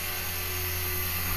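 A rebuilt $10 HK 450 RC helicopter with its rotor spinning gives a steady, loud, close mechanical whine with a constant buzzing hum underneath, holding an even pitch throughout.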